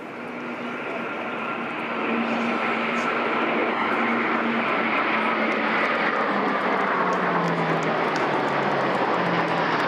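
A Poseidon P-8 patrol aircraft escorted by two Typhoon jets passing over Buckingham Palace during a VE Day 80th anniversary flypast, a loud sustained jet roar that swells and holds steadily, with a slowly falling engine tone.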